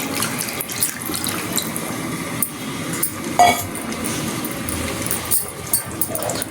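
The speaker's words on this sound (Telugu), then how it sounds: "చింతపండు పులుపు వేసేసుకోండి." Tamarind water pours and splashes into a metal pot, with clinks of utensils against cookware, close and steady, no talking.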